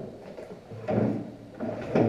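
In an abandoned asylum, a drawer scrapes open and shut in a few rough wooden slides and knocks, close by and fairly quiet.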